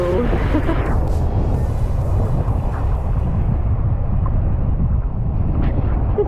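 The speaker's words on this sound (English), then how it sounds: "it is actually decently windy" Strong wind blows across the microphone at a beach lagoon on Phi Phi in Thailand, a loud steady roar filling the whole stretch with no clear speech.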